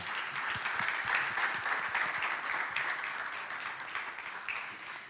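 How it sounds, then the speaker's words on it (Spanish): A seated audience at the 2024 Fundación CajaCanarias young talent forum applauds continuously, a full, even roar of many clapping hands that fades slightly toward the end, with no voices over it. "yo les pido a ustedes un fuerte aplauso para todas y todos ellos"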